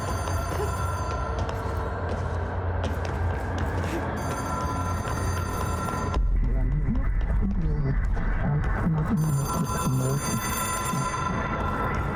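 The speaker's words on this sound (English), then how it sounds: "It is a phone. It's an object of power." An old telephone in the video game Control rings steadily, a bright repeating bell that continues for several seconds under a mix of background game sounds and a low rumble.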